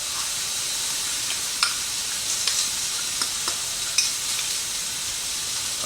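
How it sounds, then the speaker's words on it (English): Noodles sizzle loudly in a pan with sauce and peanuts for Thai-style chicken curry noodles. A continuous hiss runs throughout, broken by scattered scraping clicks as the mixture is stirred. "as I'm stirring my noodles up, I also add the sauce and my peanuts"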